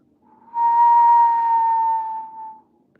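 A single quiet, sustained whistle like wind whispering through a long passageway, rising in, holding a steady pure tone for about two seconds, then fading, alone with no talk.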